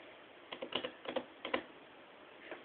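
Fingers type on a computer keyboard in a few quick bursts of close, light clicks separated by short pauses, quiet over a faint background hiss.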